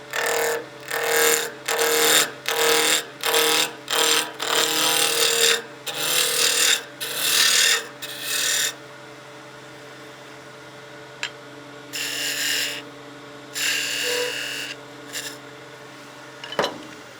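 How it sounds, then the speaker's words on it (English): A spindle roughing gouge cuts a square wood blank on a lathe, giving repeated loud rasping bursts in a rhythmic series over the motor's steady hum, then the hum alone with a few shorter cutting passes. "We'll use that spindle roughing gouge to make this down to a round piece and get rid of all the corners."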